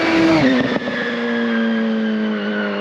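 A rear-wheel-drive Z-Cars restomod Mini fitted with a Hayabusa motorcycle engine screams past close by, a loud high-revving engine whose pitch drops as it passes, then a sustained fading drone.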